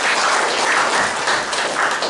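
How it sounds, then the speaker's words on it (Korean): A lecture audience at a Korean history talk in Washington gives a professor loud, sustained applause, a thick, even wash of many hands clapping at once. "교수님을 큰 박수로 맞이해 주시기 바랍니다"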